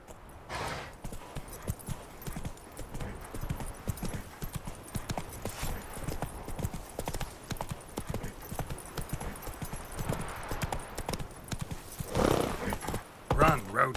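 Roach, a horse in The Witcher 3, gallops with steady rapid hoofbeats close by, a brief whinny near the end, and a voice talking over it.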